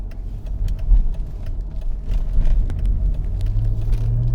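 A 2004 Mercedes SL500 on the move, its engine rumbling low and steady beneath broad road and tyre noise, loud and close from inside the cabin with a rising tone near the end.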